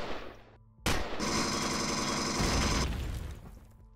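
An enemy turret fires rapidly in Empyrion Galactic Survival, a sudden loud burst that holds steady for about two seconds and then fades, with no talk.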